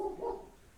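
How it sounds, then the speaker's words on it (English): A dog barks once, fairly close, a short muffled woof that fades quickly into a quiet room. "My dog's barking."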